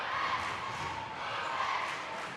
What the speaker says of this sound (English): Good crowd on hand tonight from both Spring Hill and Baldwin.